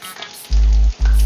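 Okra sizzles in hot oil, the frying crackle rising in two loud bursts as the pieces are stirred.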